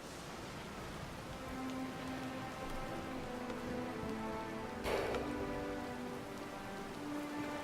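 Heavy storm rain at sea in the video game Pillars of Eternity 2: Deadfire, a steady dense hiss of downpour with a brief louder gust or splash midway, alone with faint tonal music underneath.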